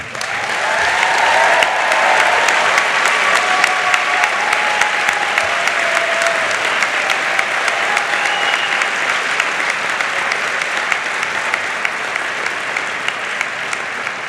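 Sustained, loud applause from a commencement audience honouring the Penn Dental Medicine class of 2017, dense steady clapping filling the hall for the whole stretch before easing slightly at the end.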